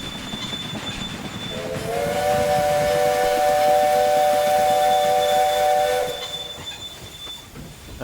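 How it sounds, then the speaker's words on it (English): A steam train whistle from a freight train pulling in from a cattle yard in the video game Train Empire, one long steady multi-tone blast of about four seconds over rumbling rail noise. "There's my freight train coming in from the cattle yard."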